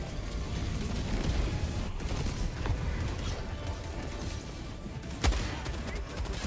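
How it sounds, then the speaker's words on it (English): Cannon and heavy machine gun fire aimed at ships in Helldivers 2, a dense, continuous roar of rapid gunfire with mechanical rattling and one sharper heavy blast standing out near the end. "I thought this cannon would drop these ships in one shot."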